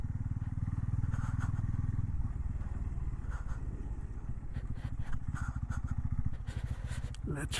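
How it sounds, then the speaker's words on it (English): A Pulsar N250 motorcycle engine runs with a steady low throb at close range near temple grounds, its rhythmic pulsing continuous throughout, with light clatter and faint speech-like sounds over it. "I think we can park our motorcycle there."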